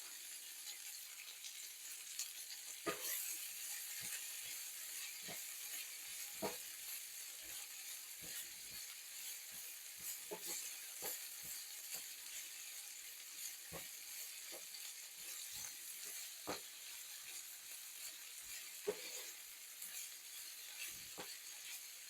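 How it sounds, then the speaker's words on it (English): Onions and peppers caramelize in a pan with a soft, continuous sizzle broken by scattered small pops and crackles, quiet and steady throughout with no talking. "I love caramelized onions and peppers cooked together like this."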